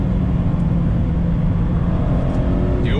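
A 2019 Mazda MX-5 Miata Club engine brakes and downshifts on a road, a close, continuous drone of engine and road noise with no voices.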